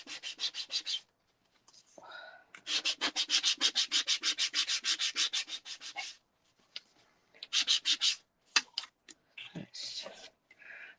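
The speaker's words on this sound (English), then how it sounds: "Excuse me while I just sand." A nail file rubs back and forth along the edges of paper greeting cards in quick rasping bursts of strokes, with short pauses between runs and a few soft handling noises.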